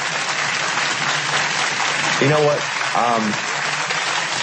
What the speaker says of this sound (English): Gotta wait for that applause to kind of go down here.